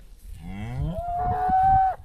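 A cow on a New Zealand farm lets out a single loud, drawn-out moo close by, rising in pitch and holding for about a second before cutting off.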